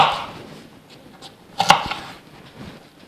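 Knife coarsely chopping onion on a board in a home kitchen, a few soft scattered cuts with one sharper close chop in the middle, no talking.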